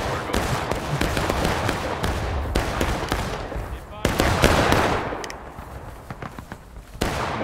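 Volleys of musket gunfire in the Civil War game War of Rights crack out repeatedly, dense and overlapping with distant and nearer shots, under shouted voices giving commands.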